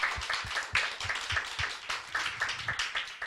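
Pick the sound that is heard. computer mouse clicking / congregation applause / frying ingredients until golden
congregation applause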